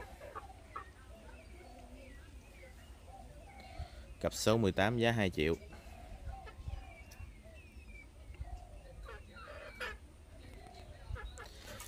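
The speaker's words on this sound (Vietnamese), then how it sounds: "gà sư tử ba lan vàng nha các bạn" Five-month-old golden Polish chickens on a farm give a loud, brief burst of calling midway, while someone talks over quieter background clucks and rustling.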